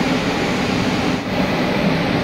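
Black Diamond Express train rolling along after departure, heard from inside a carriage as a loud, steady rumble with rhythmic clatter.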